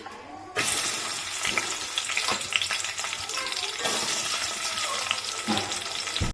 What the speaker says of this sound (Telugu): ఆనియన్స్ ఇలా బ్రౌన్ కలర్ వేగిన తర్వాత